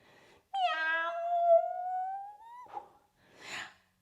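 A single long, drawn-out cat meow rings out clearly and close, followed by a short softer mew and a breathy huff in an otherwise quiet space.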